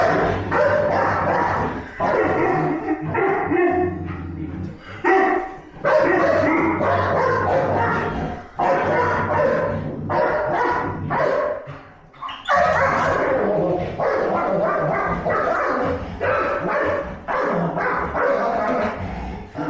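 Two dogs bark back and forth in repeated loud bursts, mixing deep woofs with yips and whimpers, broken by brief pauses, close by and continuous over about twenty seconds.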